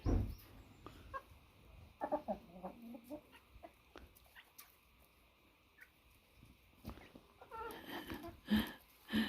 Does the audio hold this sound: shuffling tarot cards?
no